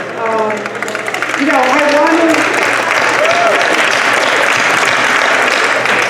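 An audience at a Suffolk County Executive candidate debate claps, a broad steady wash of applause swelling after a voice speaks over the first moments and continuing loudly to the end.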